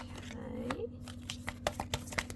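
Tarot cards being shuffled by hand, a string of crisp riffling snaps and slides following a brief vocal sound, close and fairly quiet.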